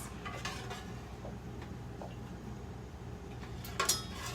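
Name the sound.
stirring creamy lemon caper butter sauce in a pan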